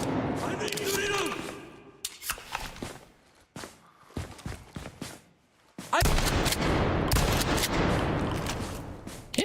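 Shotgun blasts in a first-person shooter video game, several sharp loud bursts spaced irregularly, followed by a dense stretch of gunfire and action noise, with a person talking over it at times.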